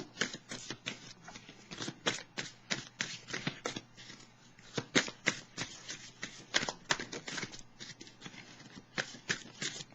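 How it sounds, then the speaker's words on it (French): Tarot cards being shuffled by hand, with rapid riffling flutters and soft slaps repeating in a steady rhythm, close and fairly quiet with no talking. "Là, il y a des cartes qui sont un peu plus difficiles à brasser."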